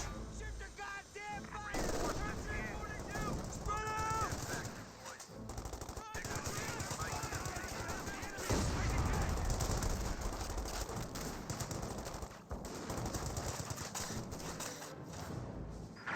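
Battle gunfire in Company of Heroes 2: dense rifle and machine-gun bursts with heavy thuds and explosions roll on continuously, mixed with game voices and effects.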